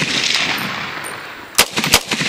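Airsoft guns fire outdoors in Arizona during practice, a few sharp, close pops clustered near the end over steady background hiss, with no talking.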